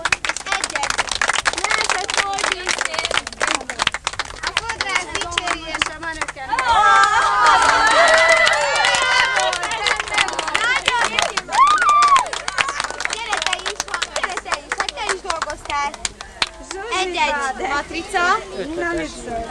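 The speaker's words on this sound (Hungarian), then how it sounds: "Tapsot neki, nagyszerű!" Sustained clapping and cheering from an audience at a hairstyle beauty contest, dense and fairly loud, with voices and crowd chatter running through it for about twenty seconds.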